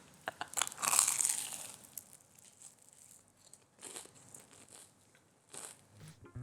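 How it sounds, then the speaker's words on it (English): Crisp crunching of a bite into a Mauritian beef and potato samosa's fried pastry, a loud close burst of crackling followed by quieter chewing crunches, with no talking. "Can you hear that crunch?"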